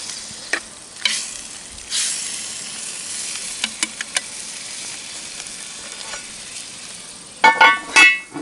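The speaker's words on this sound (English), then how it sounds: "We're just going to stir this all together." Hamburger sizzling and frying in a cast iron Dutch oven while being stirred, a constant hiss broken by scraping clicks and clinks of the utensil against the pot, louder bursts of stirring near the end.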